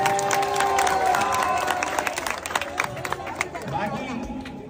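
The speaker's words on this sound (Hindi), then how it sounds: "जोरदार तालियों से मेरी बहन।" A crowd at an election campaign event in Anushakti Nagar, Mumbai cheers and claps amid excited chatter, a lively burst of applause with scattered voices rising over it.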